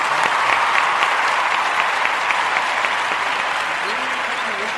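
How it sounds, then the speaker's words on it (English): Steady applause from a studio audience at the close of a podcast episode fills the clip, dense and even from start to finish, with a faint voice speaking underneath near the end. "Can we get a round of applause to end the show?"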